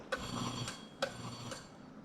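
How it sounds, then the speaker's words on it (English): Two sharp metallic strikes from a push-button alarm bell, about a second apart, each followed by a ringing decay in a quiet room. "So that's an alarm bell that goes off if you push this button."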